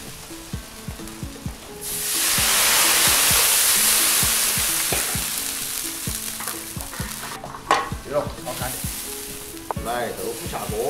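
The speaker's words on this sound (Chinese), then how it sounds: "来个海椒末下锅。" Chili powder hits hot lard in a wok over a wood fire with fermented black beans, ginger, garlic and Sichuan peppercorns. A loud burst of sizzling swells, then fades under repeated spatula scraping and stirring, close and with no voices.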